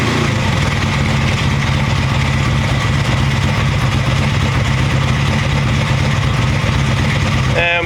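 A motorcycle fitted with Rae-san ignition boxes, already warmed up, idles steadily near 1,000 RPM, a close, constant low engine rumble and putter running the whole length.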